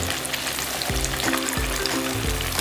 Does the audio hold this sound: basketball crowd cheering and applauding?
no